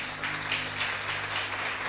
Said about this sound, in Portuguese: Aplaude Jesus, querido.